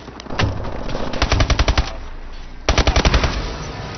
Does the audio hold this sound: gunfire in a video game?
yes